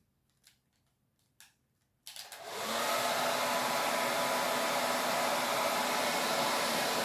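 A hair dryer starts up after a few soft taps and handling noises, then runs as a steady, loud, close whoosh, drying napkin decoupage work.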